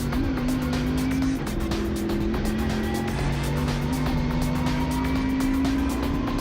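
Race car engine on a lap of Utah Motorsports Campus, a loud continuous in-car drone whose pitch drops and climbs as it shifts between third and fourth gear, with no talking.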